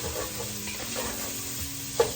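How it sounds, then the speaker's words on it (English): A pan sizzles steadily at low level while being deglazed with a little water, with a soft stirring scrape or two and a small clink near the end. "add a little water with the heat on it, and it'll just sizzle right up"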